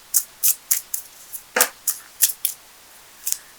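Tarot and oracle love cards drawn and laid down, a string of sharp crisp snaps and slaps spaced irregularly, about ten distinct hits, close and clear with no talk.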